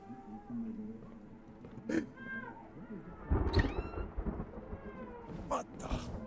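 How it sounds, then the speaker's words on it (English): Cat meows from inside the 12 Minutes video game, several short rising calls scattered across the clip alongside thunder-like rumble and a speaking voice, moderately loud. "so the cat sound is actually in the game"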